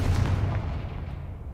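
In Hogwarts Legacy, a Confringo fire spell lands as a deep booming blast that rolls off into a fading rumble, loud and close, with no talk over it.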